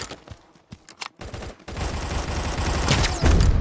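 Gunfire from the mobile shooter Guns of Boom starts as a few sharp scattered shots, then breaks into a loud, continuous automatic fusillade that builds toward the end.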